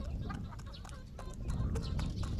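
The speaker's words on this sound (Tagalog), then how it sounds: "papakain ako ng mga stag natin" Stag gamecocks cluck around a feeding spot, soft repeated calls from several birds over a steady low rustling background.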